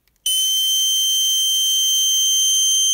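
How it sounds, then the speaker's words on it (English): A Snap Circuits 3D Illumination kit sounds its alarm when white LED light strikes a phototransistor: after a brief quiet moment, a loud, piercing steady electronic tone kicks in and holds unbroken to the end. "the light from the white LED is going to hit the phototransistor and sound an alarm"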